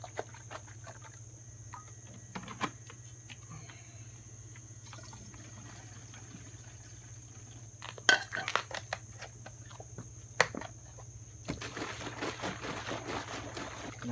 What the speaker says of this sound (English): Make sure this gets mixed up good.